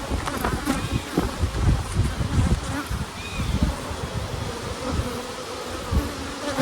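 Honey bees swarm around an open hive during an inspection and requeening. Their loud buzzing is dense and continuous, with individual insects droning close past.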